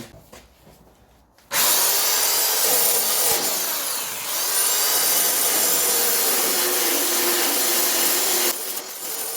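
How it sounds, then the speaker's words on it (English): A power sander grinds loudly against the steel inner wing of a classic Mini pickup under restoration, starting abruptly after a quiet moment and running steadily and close, with a brief dip in intensity before easing off at the end. "I'm just going to get the sander in there."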